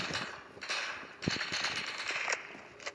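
Gunfire in the Roblox game Lost Front: a run of sharp, loud shots and short bursts, with one strong crack near the middle and scattered reports around it.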